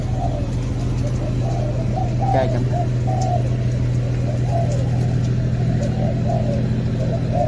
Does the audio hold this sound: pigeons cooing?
yes